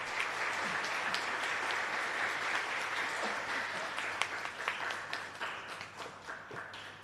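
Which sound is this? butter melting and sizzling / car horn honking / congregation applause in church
congregation applause in church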